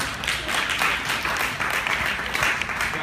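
Audience applause at a Global Goals mobile announcement held at the UN: a steady wash of clapping from a sizeable crowd, sustained at even loudness for a few seconds.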